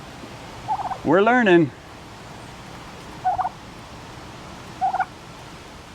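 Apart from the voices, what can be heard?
poultry calling from a brooder, guinea fowl roosting nearby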